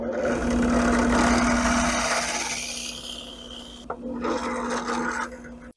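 Drill match-drilling a 3D printed gun barrel: loud continuous grinding rasp with a steady motor whine, briefly easing off around the four-second mark, then resuming before stopping abruptly.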